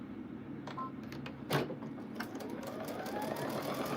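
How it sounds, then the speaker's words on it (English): Home sewing machine stitching baby quilt strips at a deliberately lowered speed, a steady low mechanical hum and rapid needle patter running continuously at close range with a brief louder bump near the middle. "I even put this lower, so we're sewing at low speed."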